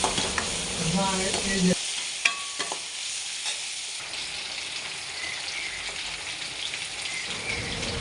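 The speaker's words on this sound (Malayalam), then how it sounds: "നമുക്ക് ചെമ്മീനിട്ടിട്ട് ഒന്നെണ്ണ വഴറ്റിയെടുക്കാം." Prawns sautéed in oil for a Kerala-style coconut stir fry, a bright, steady sizzle with stirring scrapes and a few clinks of a utensil early on.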